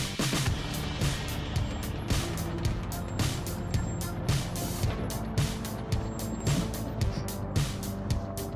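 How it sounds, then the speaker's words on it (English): A loaded logging truck's engine labors loudly on a muddy jungle road, a dense rumbling drone with repeated rhythmic surges and knocks as the heavy rig crawls along. "A loaded logging truck crawls through a muddy jungle road with huge timber flexing under the trailer's weight"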